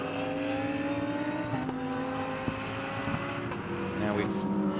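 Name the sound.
Top Cats Racing Lamborghini GT car racing past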